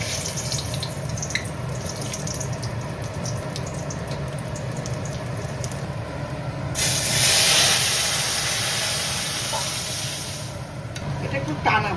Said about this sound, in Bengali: বেগুন দিয়ে সজনে পাতার শাকটা ভাজা